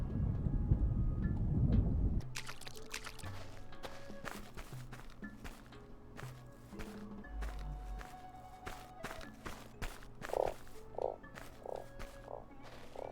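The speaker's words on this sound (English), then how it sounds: "I heard a frog. I need to kill that frog." Frogs croaking in the video game Starsand, a series of loud, close croaks at a slow, uneven pace, mixed with footsteps and other game sounds after a loud opening rumble.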